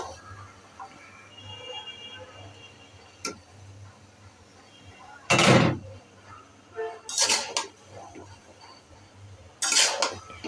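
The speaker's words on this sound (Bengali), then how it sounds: "আমি সবজিগুলো কেটে ধুয়ে রেখে দিয়েছি, সেগুলো এখন অ্যাড করে দিচ্ছি।" Chopped vegetables going into a pot of dal for a village-style Pabna labra, with cutlery and pot clatter: a low hum, then a loud clattering burst and a few more bangs and scrapes of utensils against the pot.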